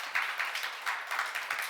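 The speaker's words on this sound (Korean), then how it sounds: "하나님의 말씀과 기도로 다 거룩해진 걸 믿으시면 박수로 하나 되세요" Church seminar audience clapping together in unison, a steady rhythmic beat of hand claps at moderate volume, sounding from a room of people with no voices over it.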